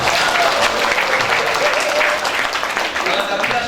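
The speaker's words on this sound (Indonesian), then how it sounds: "Kasih tepuk tangan juga." Audience applause at a university send-off ceremony for community service and teaching-practice students, a steady wash of clapping filling the hall for several seconds, close and even in level.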